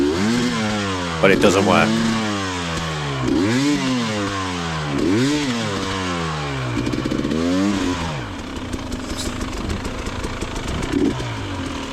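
A motorcycle on a wet, cold, slippery country lane revs repeatedly in rising and falling bursts as the rear wheel is jammed in and given power, loud and close, with a voice over it.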